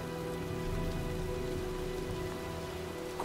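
Steady, moderately quiet rain patters continuously on a surface in the video game Heavy Rain Remastered on PS5, an even hiss of falling drops with no voices.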